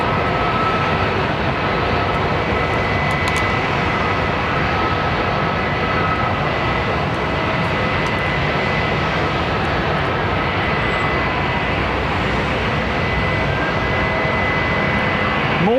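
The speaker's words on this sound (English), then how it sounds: "Listen to the engines on that 330," Airbus A330 jet engines at London Heathrow Airport make a continuous, loud, broadband roar. The roar holds steady the whole time with no voices.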